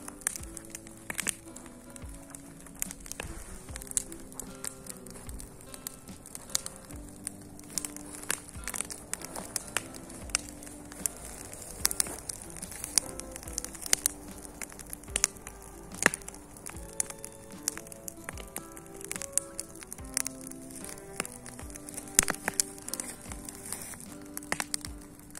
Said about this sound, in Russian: Да, и доски эти сгорели.